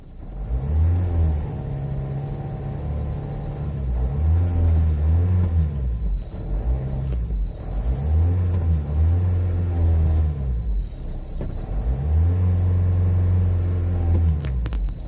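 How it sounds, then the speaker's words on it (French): Opel Zafira 2.0 TDI diesel with a cold-start problem revved hard several times, deep engine roar swelling and dropping in repeated cycles over a steady idle, close and loud. "Donc là, accélération à fond."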